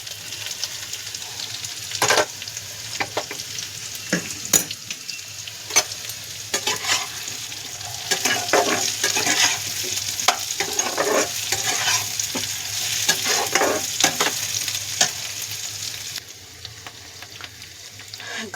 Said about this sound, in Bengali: এবারে কড়াইয়ের আলুটা, পেঁয়াজটা ভাজা হালকা হয়ে গেছে, এবার আমি কড়াইয়ের আলুটা দিয়ে দেবো